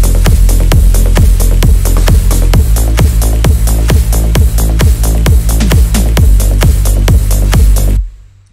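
A loud future rave EDM drop section built in FL Studio, with a driving loop and bass, pounds out steady, evenly spaced kick hits over dense synths for about eight seconds before cutting off abruptly.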